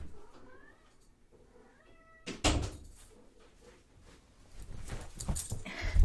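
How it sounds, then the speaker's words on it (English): A pet cat meows indoors: two short, thin meows come up close against a quiet room, followed by a louder thump and some shuffling movement. "my cat. Give me a second."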